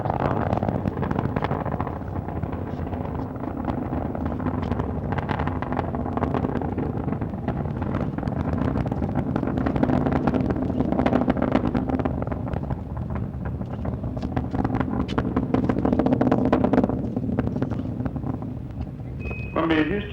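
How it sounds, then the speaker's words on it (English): Space Shuttle Columbia's three main engines roaring at full throttle during launch ascent, a steady broadband rumble heard through buffeting wind noise, with radio voice talk over it near the end. "3 engines on Columbia now back at full throttle."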